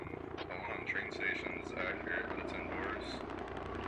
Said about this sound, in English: Helicopter coming in really slowly for this supply run